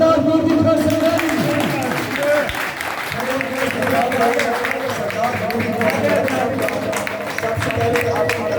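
An audience applauds to welcome a chief guest at a magazine launch ceremony, a dense, sustained clapping that runs the whole stretch while a voice talks over it.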